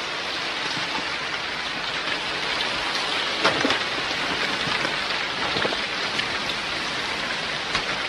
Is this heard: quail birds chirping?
no